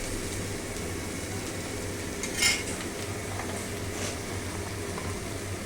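Onion being stirred in butter in a pan, with a steady low cooking hiss, a single louder scrape of the utensil near the middle and a few faint clinks of metal against the pan.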